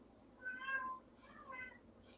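A male cat meows twice in quick succession, two drawn-out, moderately faint cries close by against a quiet background.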